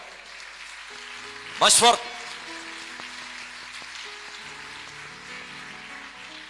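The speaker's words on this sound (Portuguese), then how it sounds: "Aplauda ao Senhor Jesus Cristo" A church congregation breaks into a short, loud burst of clapping lasting under a second, set against ongoing background music and a voice urging them on.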